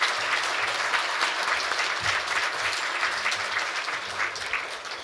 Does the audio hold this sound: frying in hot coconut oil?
no